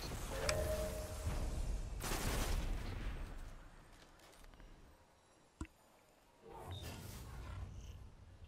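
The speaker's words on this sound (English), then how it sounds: "Wow, the range of the explosion on that." Explosions in the survival video game Rusted Lands, with a loud broad blast, a second burst later on, a sharp crack between them, and quieter rumbling stretches in between.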